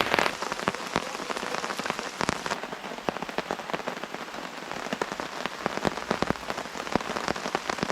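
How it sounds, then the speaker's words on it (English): Heavy rain drums steadily on a taut tarp overhead, a dense patter punctuated by louder, sharper drips and splats close by. "I got my tarp up just in time to get out of the heavier rain"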